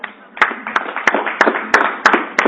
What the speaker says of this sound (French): on applaudit l'OT3